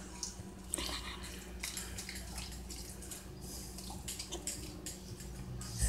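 Water is poured into a pot of simmering fideo noodles with bell peppers and onions, a steady soft trickle and gurgle with small drips, close by and fairly quiet.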